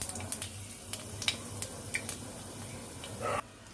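Panch phoron spices frying in hot mustard oil, a steady soft sizzle punctuated by sharp pops and crackles, with a brief stirring scrape near the end.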